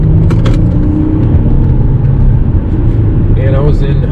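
A 2019 Volkswagen Touareg V6 TDI under full-throttle acceleration: a loud, steady low engine drone and road rumble from inside the cabin, with a rising whine near the end as the diesel pulls hard.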